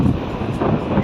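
A strong gust of wind sweeping through a street in Prague, a steady low roar of rushing air buffeting the microphone for the whole second, with no one speaking.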